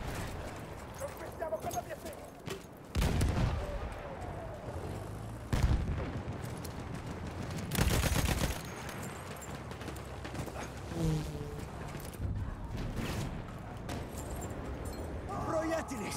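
Gunfire and blasts in a combat shooter video game, several sharp bursts and booms cutting through a busy battle mix, with someone talking over the action.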